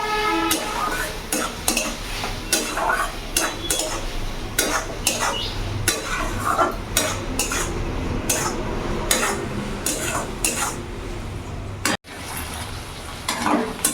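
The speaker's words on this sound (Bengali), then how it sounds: "এক চামচ জিরে গুঁড়ো দিয়ে দিলাম আর এক চামচ লঙ্কা গুঁড়ো আমি দিয়ে দিলাম ভালো করে আমি ভেজে নেবো" Ground cumin and chili powder frying in a pan while a spoon scrapes and stirs, producing rapid repeated metallic clinks and scrapes over a constant low sizzle, with one brief cut near twelve seconds.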